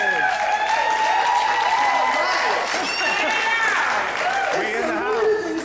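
Members of the Mississippi Coalition cheer and clap at a gathering in New Orleans. The loud, sustained crowd noise carries layered shouting voices and applause throughout.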